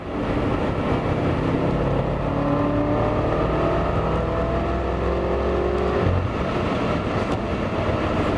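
A BMW F10 M5 accelerates hard through the gears from inside the cabin, a dense, loud engine roar with rising tones and a brief dip near six seconds as the gear changes.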